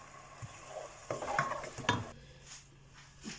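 Garlic frying in a pan while a utensil stirs and scrapes it, giving a soft sizzle with a few clinks and scrapes of metal against the pan, fairly quiet and close.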